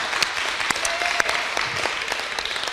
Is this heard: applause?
yes